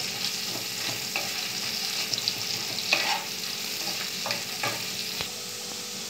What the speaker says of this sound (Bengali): এই তেলটা যেটা রয়েছে তার মধ্যে আমি মাঝারি সাইজের দুটো পেঁয়াজ কুচি রেখেছিলাম সেটা দিয়ে দিলাম